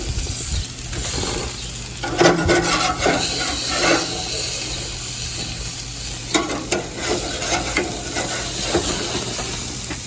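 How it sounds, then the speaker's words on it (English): Chuck roasts sizzle loudly and steadily on a hot cooking surface at breakfast, with bursts of scraping and clacking as tongs grip and turn the meat; no voices. "Okay, just take the tongs. You know, these chuck roasts will stick a little bit even when they're ready."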